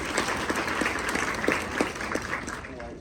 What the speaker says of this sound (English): Polite applause, that was nice.